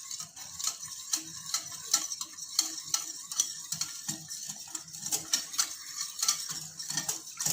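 Rhythmic scraping and clinking of a spoon stirring Bombay halwa mixture with salt and colour in a pan, repeated strokes about twice a second, close and alone with no talking.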